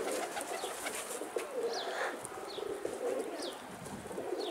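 Pigeons around a coop give soft repeated cooing and short chirps, several birds near and farther off, over a constant outdoor hiss.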